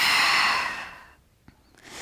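A breathy exhale during a Pilates jackknife exercise, a long airy whoosh that fades out over about a second, followed by a faint click and a softer breath near the end.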